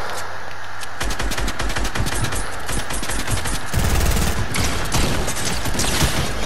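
Fortnite gunfire spraying at the player, dense rapid automatic shots in loud sustained bursts with in-game effects, close and continuous.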